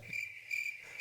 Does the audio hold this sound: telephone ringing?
no